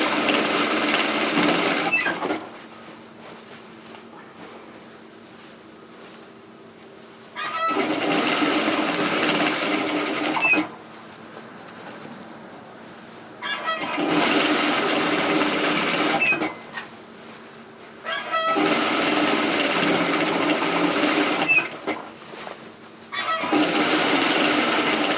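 Sewing machine stitching the seams of a large unlined reusable shopping tote: four loud, steady whirring runs of several seconds each, separated by quieter pauses, close by and with no talking.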